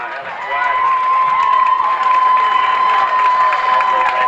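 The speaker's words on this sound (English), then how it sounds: "So that gives the Greene County Tiger fans something to cheer about." Greene County Tiger fans cheer at a high school football game, a sustained, loud crowd roar with shouting, while a commentator talks over it.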